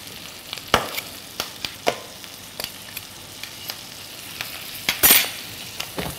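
Guinea fowl supremes sizzle and fry in foaming butter with crushed garlic and fresh thyme in a pan, a steady close crackle punctuated by sharp spits and pops, with one louder burst of sizzling near the end.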